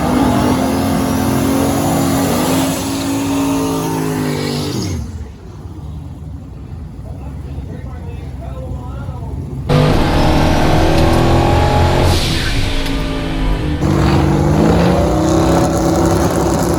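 A twin turbo Nova drag races a Turbo LS Datsun pickup, its engine roaring loud and close through hard acceleration with rising gear pulls, a brief drop in between, then another surge of full-throttle howl.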